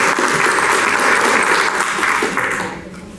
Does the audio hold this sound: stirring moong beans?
no